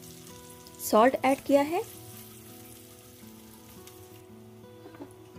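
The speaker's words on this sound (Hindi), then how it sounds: "अब मैंने ऑयल में ज़ीरा ऐड किया है, क्रश्ड होल चिलीज ऐड कर दी हैं, चॉप्ड ग्रीन चिलीज ऐड करेंगे, थोड़ा सा फ्राई करेंगे" Cumin, crushed whole chilies and chopped green chilies frying in hot oil for okra masala, a soft steady sizzle under a woman's brief speech.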